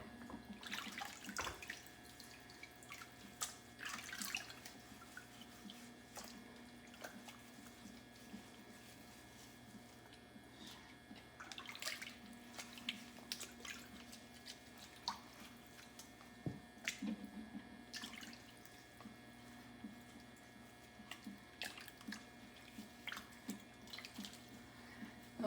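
Fresh chicken eggs being washed by hand under a running kitchen tap with a little warm water, the quiet steady stream broken by intermittent wet squishes and splashes as the eggs are handled.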